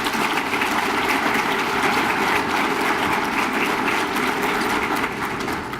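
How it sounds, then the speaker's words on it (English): An audience at a regional economic development annual meeting applauds steadily for several seconds, a broad even wash of clapping in a large room that eases slightly near the end. "Let's give them some applause."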